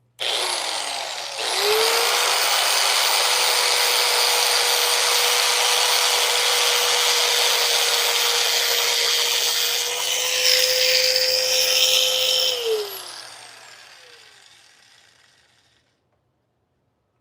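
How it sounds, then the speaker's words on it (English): A rotary tool fitted with burrs whines steadily and loudly while detailing a chainsaw-carved wooden truck, starting abruptly, holding a high sustained pitch with slight load changes, then spinning down and fading over the final few seconds. "I gotta use a little bit of a tool on that part, a little bit of burrs"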